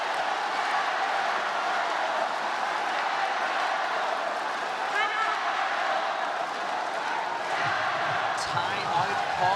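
Steady crowd noise fills an indoor arena during a China versus Japan women's table tennis team final, a continuous murmuring roar with a few brief sharp knocks near the end.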